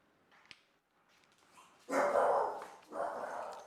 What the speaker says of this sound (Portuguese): Os cachorros às vezes se empolgam